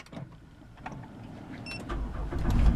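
A wheelchair-accessible van with hand controls starts up: a brief electronic whir and clicks give way to an engine catching and settling into a low, growing idle close by.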